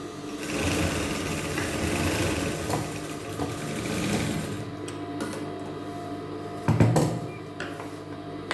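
A sewing machine stitches a blouse body onto its collar with a steady, close, whirring run that stops about halfway through. A few clunks and handling knocks follow, with no talking.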